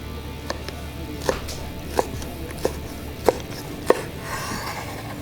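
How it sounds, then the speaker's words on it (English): A knife cuts through smoked beef brisket on a board, six or so evenly spaced thuds about two-thirds of a second apart. Close, over a low background hum. "let's go ahead and let's start making some slices here."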